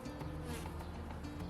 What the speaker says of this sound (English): like dipping your hand into a box full of bees